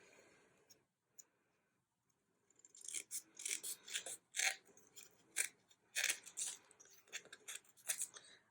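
Scissors snipping a glossy bookmark, close and crisp: a few isolated clicks, then a quick irregular run of sharp cuts after a short pause, with no voices.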